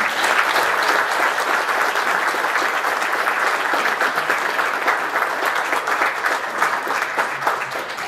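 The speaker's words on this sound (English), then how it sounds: "Let's give everybody, again, a big round of applause." Police department promotion ceremony crowd giving a sustained round of applause, dense steady clapping filling the room at an even level for several seconds, close and without talk.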